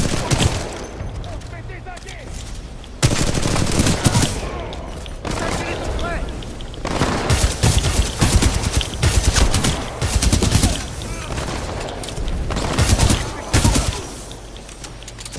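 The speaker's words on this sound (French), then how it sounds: "Ça c'est du tir." Video game gunfire rattles in rapid bursts and single shots through a French-language session, loud and continuous, with players talking over the shooting.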